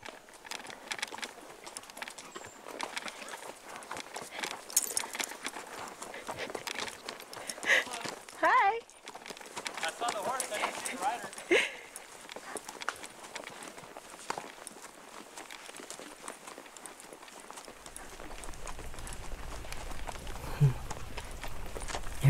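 Horse hooves clip-clop at a steady walking pace along a mountain forest trail, mid-close and continuous, with birds calling in the background and brief stretches of talk mixed in.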